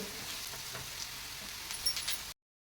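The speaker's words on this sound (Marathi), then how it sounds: "मीडियम गॅसवर पाच मिनिट या वड्या भाजून घ्यायच्या पाच मिनिट एका बाजूने भाजून घेतल्यानंतर या वड्यांच्यावर असं थोडं उलटण्याने तेल घालून घ्यायचे" Patra potato vadis made with colocasia leaves shallow-fry in oil, giving a faint, steady sizzle with light crackles that cuts off abruptly.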